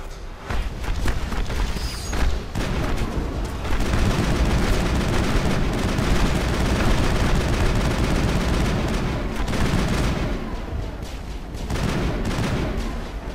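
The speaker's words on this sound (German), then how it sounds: "Ich verpasse dir noch eine schöne Ladung. Schrot zwischen die Augen." Shotgun gunfire in the video game Mass Effect, a dense, loud barrage of blasts and combat noise that stays continuous for most of the stretch, easing off only briefly near the end.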